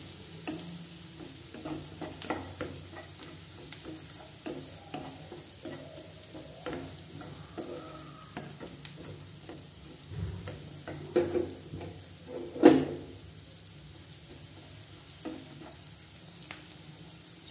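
Dal makhani with green chillies cooks in a pan over a low-to-medium flame, giving a soft, steady sizzle with intermittent spoon stirring and one louder scrape near the end.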